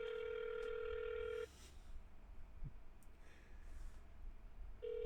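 A ringback tone on an unanswered phone call to a commissioner: one long, steady electronic ring, then a pause with faint background noise, then the next ring starting, fairly loud and close.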